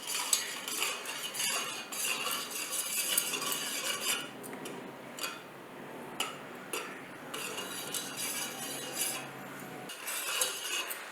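A spoon clinks and scrapes against a metal pot in steady, busy stirring, with small taps and rattles throughout.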